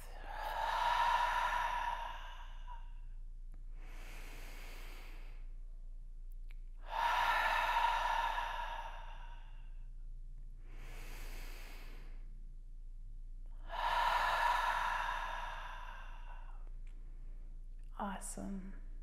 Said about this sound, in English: Deep inhale in and deep exhale out of the mouth.